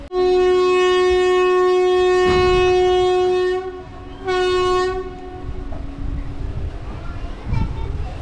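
The Chennai–Tuticorin election special train pulls out of Melmaruvathur station, sounding a loud, close horn in a long blast and then a shorter second one before the carriages settle into a rolling rumble.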